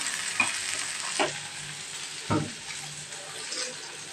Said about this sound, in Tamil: அதுவும் சேர்த்து இவ்வளோ போட்டு ஒரு வதக்கி வதக்கிக்கோங்க